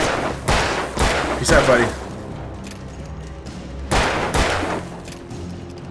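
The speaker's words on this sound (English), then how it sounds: "That's 8 shots." Gunshots in Alan Wake ring out as several loud, sharp blasts, three quick ones in a tight cluster followed after a pause by two more, each with a booming tail, with a brief spoken line among them.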